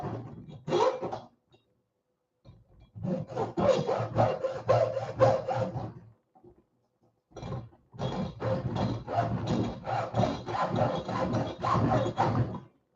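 A saw rasps through part of a toy truck's plastic drive shaft in several bursts of quick back-and-forth strokes, close and fairly loud, with short pauses between cutting spells.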